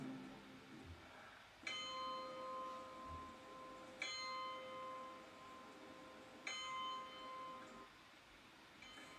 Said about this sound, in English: Ringing out for Grenfell, 72 chimes for each of the victims, 3 years on from the disaster.